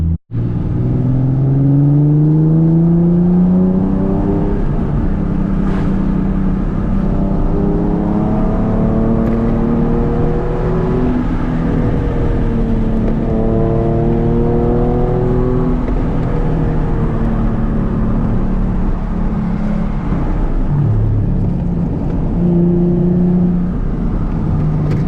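Nissan 370Z NISMO accelerating hard on a highway, its engine note climbing through repeated rising sweeps with gear changes, loud and steady from inside the car with no talk.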